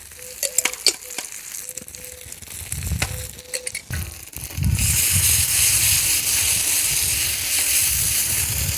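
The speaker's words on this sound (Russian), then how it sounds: "Обжариваем вместе с луком буквально пару минут." Tomato paste frying with onion in a kazan over an open fire. Scattered clicks and light scrapes come first, then a loud, steady sizzle takes over for the rest, with stirring underneath.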